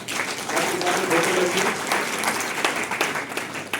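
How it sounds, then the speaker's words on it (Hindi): Sustained applause from a seminar audience at an AWPL network-marketing achievement event, steady clapping filling the whole stretch at close range with a slight murmur of voices underneath. "एक बार जोरदार तालियां"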